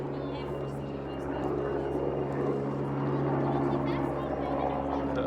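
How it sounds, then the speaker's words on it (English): Helicopter passing overhead, a low droning rotor and engine rumble that swells slightly louder toward the end, heard under someone speaking. "helicopter"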